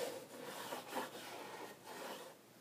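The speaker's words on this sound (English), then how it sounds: "wire brush, and we're going to go in there and clean that edge right where the inner panel attaches to the roof" A wire brush scrubs a rusty sunroof channel edge where the inner panel meets the roof, giving several short, faint rasping strokes in an uneven rhythm, close by and with no talk.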